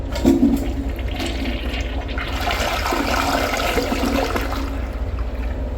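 A Gerber Maxwell SE toilet flushes nearby, a loud, sustained rush and gurgle of water that trickles off toward the end as the bowl rinses.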